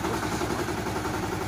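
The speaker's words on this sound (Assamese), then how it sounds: "হেণ্ড ট্ৰেক্টৰ অৰ্থাৎ এই পাৱাৰ টিলাৰ VST এইখন" A VST Shakti 130 DI power tiller's diesel engine runs at a steady idle, a loud, close, continuous low chugging throb with an even rhythm.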